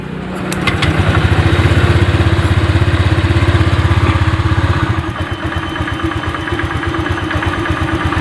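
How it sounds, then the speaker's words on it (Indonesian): A Honda Vario 125 scooter engine cranks and starts, then settles into a steady, close idle with a fast even putter, dropping slightly in level partway through before idling on. "Kita dengarkan ya, kita hidupkan motornya."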